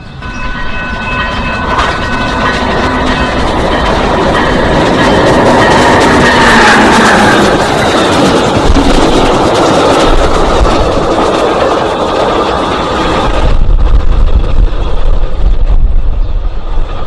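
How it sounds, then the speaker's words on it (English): A westbound mixed freight train rolls past a commuter station in LaGrange, Illinois, a loud, sustained rumble of cars and wheels with faint clatter and a distant horn, easing slightly near the end. "This freight train is westbound. Looks like a mixed freight."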